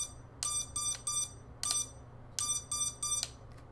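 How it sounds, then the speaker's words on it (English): A drone flight controller's beeper sounding during a Betaflight failsafe test, giving sharp high electronic beeps in quick groups of two and three, clear over a faint low hum. "we're going to test the beeper and the failsafe."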